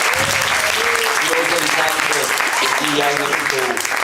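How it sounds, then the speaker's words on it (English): An audience at a conference opening ceremony cheers and applauds as a group, a dense continuous roar of claps and shouts with voices mixed in, loud and sustained throughout. "if you're part of that animal group, to give a big cheer"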